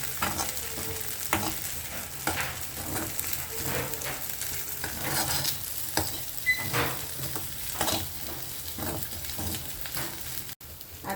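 Sabudana khichdi sautéed in ghee in a pan, a steady close sizzle and frying crackle with repeated stirring scrapes and soft pattering, continuous and fairly loud with no voices.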